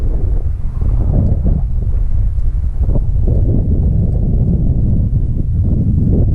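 Strong wind buffeting the microphone outdoors at an RC warbird flying field, a loud, continuous low rumble with gusty surges and no clear speech.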